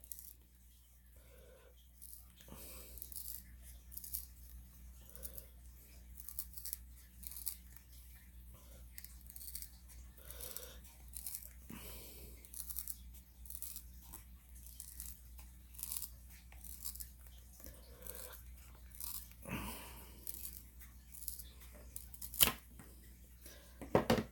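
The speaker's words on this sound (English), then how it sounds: "Probably be easier just to start with a pair of scissors" Faint snipping and crinkling of material being cut, irregular small cuts and rustles in a quiet setting.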